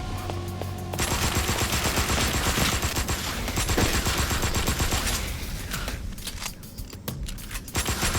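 Guns firing at zombies in the PSVR game Pancake House, a dense, loud, continuous burst of rapid automatic gunfire under game sounds, thinning near the end.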